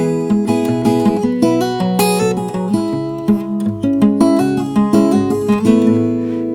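Fingerpicked acoustic guitar playing a song's melody, a thumb-driven bass groove under bright plucked treble notes, close and clear.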